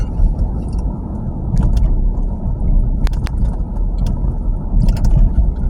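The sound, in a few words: mail truck engine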